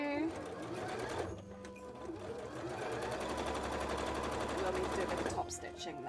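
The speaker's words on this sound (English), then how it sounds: "We'll need to do a bit of top stitch." A sewing machine runs steadily through top stitching while free-motion embroidering tail frills, a fast, even mechanical whirr close by that pauses briefly and then starts again, with a voice speaking over it.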